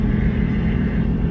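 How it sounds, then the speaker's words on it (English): Hay truck engine straining up a hill in North Carolina, a steady loud low rumble that holds without a break and is heard from close by, with no talk over it. "you can really hear his truck yelling a little bit going up the hill"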